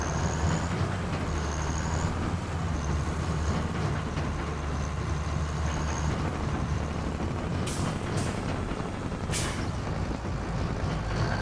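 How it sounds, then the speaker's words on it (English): A loud truck rumbles past nearby with a continuous heavy engine roar, and sharp hissing bursts of air brakes near the end. "Very loud truck."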